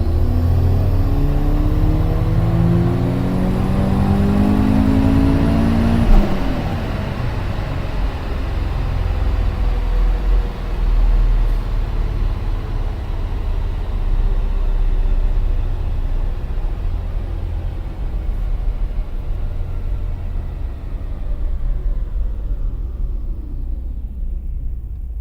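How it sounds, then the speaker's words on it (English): A Subaru STI exhaust roars under a full-throttle pull, rising sharply in pitch for several seconds, then dropping into a loud, steady rumbling drone that slowly fades, with no talking. "Can you guys hear the exhaust?"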